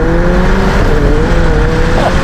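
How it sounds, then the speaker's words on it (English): A McLaren 720S Spider widebody with a 4-litre twin-turbo V8 and 7-speed dual-clutch gearbox pulls hard under acceleration, a loud, steady close-up engine roar with a rising tone throughout. "we got that 4-litre twin turbocharged V8 up in the back, 7-speed flappy paddle gearbox, double clutch"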